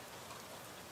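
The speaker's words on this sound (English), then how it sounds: "listening to the rain intensify against the windows." Steady, even rain patters against windows, a soft continuous hiss with no breaks and no voices, fairly faint throughout.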